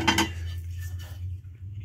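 Flat plates being handled, giving a couple of sharp ceramic clinks up front, then a faint hum.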